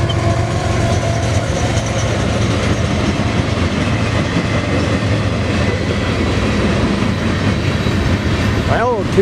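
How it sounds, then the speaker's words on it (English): An eastbound BNSF mixed freight train with one engine passes near Railroad and Trent Avenue, a loud continuous rumble and clatter of wagons rolling close by throughout, with a brief squeal near the end. "we have an eastbound Burlington Northern Santa Fe."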